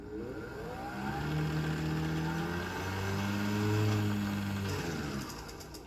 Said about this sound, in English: thread up your bobbin winder, and you wind, and it's a nice sound that the motor's giving us